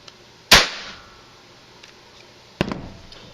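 A 22LR prototype gun fires a green number 3 powder-actuated tool load, giving one loud, sharp, close bang. A second, fainter crack or clack follows about two seconds later, and there is no talking.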